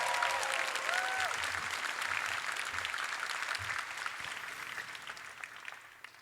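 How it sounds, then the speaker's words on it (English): A school class-night audience applauds a salutatorian: dense, sustained clapping from a large crowd that slowly tapers, with a faint voice and brief tonal chirps near the start. "Another round of applause for our salutatorian"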